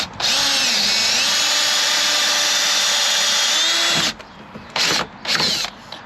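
A power drill whines steadily and loudly for about four seconds, then stops; a few short bursts of drilling follow, boring through the door panel of a 1992 GMC Dually pickup.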